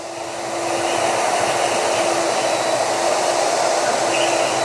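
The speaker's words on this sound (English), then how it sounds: "look how fast it is in the grinder and how clean" An angle grinder runs steadily on a flatbed trailer being repaired by welding, a loud continuous whine with a broad rushing hiss holding for the whole stretch, no voices over it.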